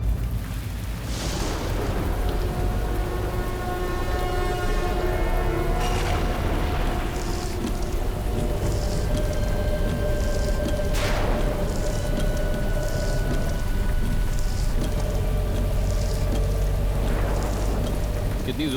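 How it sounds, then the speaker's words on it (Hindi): Heavy rain pours in a steady, dense hiss that continues without a break, with thunder-like booms and sweeping tonal effects layered over it. "कितनी जोर की बारिश हो रही है।"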